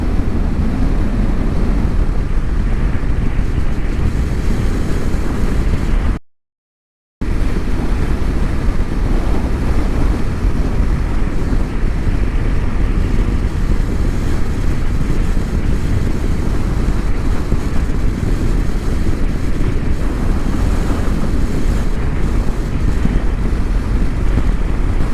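Heavy wind noise from a headwind buffeting the microphone on a motorcycle ride down a winding canyon road in Colorado, a loud, continuous roaring rumble with one brief dropout.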